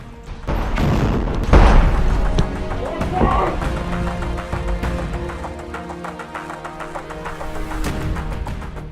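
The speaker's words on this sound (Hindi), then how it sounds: "दूर गली में खड़े आईडीएफ के टैंक पर घात लगाकर रॉकेट से हमला करता है, जिसमें इजराइल का वो टैंक आग के गोले में तब्दील हो जाता है।" A rocket strike on an Israeli IDF tank in a street in Khan Yunis, Gaza, a heavy close boom followed by rumbling debris and lingering noise, with voices in the background.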